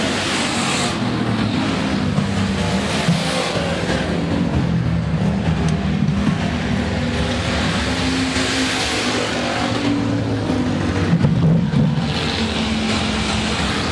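Hobby stock race cars roar around Rapid Speedway in a continuous, loud engine drone, the pitch rising and falling slightly as the pack passes through the turns.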